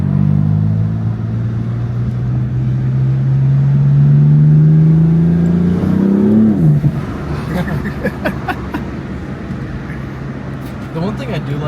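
A BMW F82 M4 with the S55 engine accelerates from inside the cabin, its deep drone climbing steadily in pitch before a sharp upshift drops the revs, followed by road noise and rumbling.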